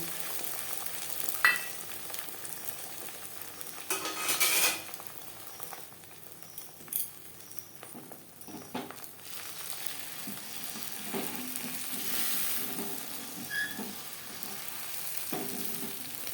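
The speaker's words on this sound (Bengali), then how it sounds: "তেল গরম হয়ে গেছে এবার দিয়ে দেব পেঁয়াজ দিয়ে ফেটিয়ে রাখা ডিম" Onion and beaten egg hit oil heated on a high flame for an omelette, giving a steady close sizzle and frying crackle with a few louder stirring bursts across a long stretch. No speech.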